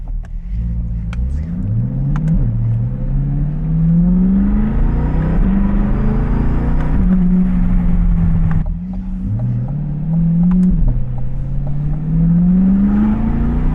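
A C8 Corvette fitted with a C7 ZR1 LT5 throttle body accelerates hard in repeated pulls, its loud, close engine note rising through the revs, dropping briefly at each shift, then climbing again with occasional pops.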